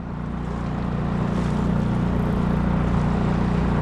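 A boat motor idles close by with a steady, low rumbling drone, continuous and fairly loud with no speech over it.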